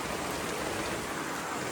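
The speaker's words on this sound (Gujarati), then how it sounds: "બાકી તો રાતનો વરસાદ આવ્યો ભાઈ" Rain falls at night as a steady, close hiss of drops, uniform in level with no voices or other sounds breaking through.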